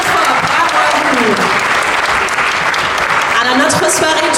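Audience at a Disneyland Paris event applauding the Tender Voices singers, steady loud clapping filling the whole stretch with cheers and voices mixed in.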